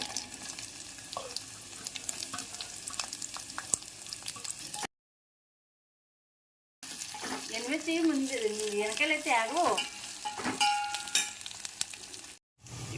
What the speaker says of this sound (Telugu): పోపులు అయితే మనకి మంచిగా అయితే ఫ్రై అయిపోయాయి